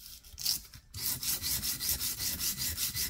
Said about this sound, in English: I am using 150 sandpaper.